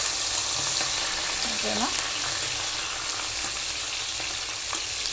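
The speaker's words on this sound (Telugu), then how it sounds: "ఆవాలు, మిర్చి వేసి దీన్ని మగ్గనివ్వాలి." Mustard seeds and green chillies fry in hot oil with a dense, continuous crackling sizzle, close and loud, while a voice speaks briefly over it.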